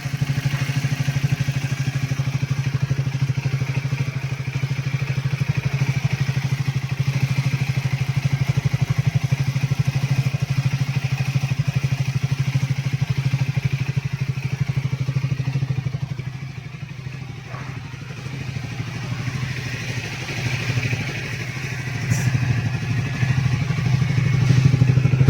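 A Triumph Speed 400 motorcycle engine idles steadily nearby, a continuous low rumble that dips briefly before picking back up.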